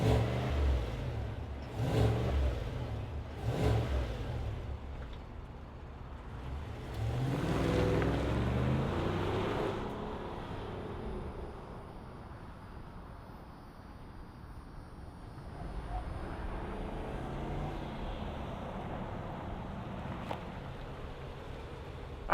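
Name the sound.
2025 Chevrolet Suburban RST 6.2-liter V8 engine revving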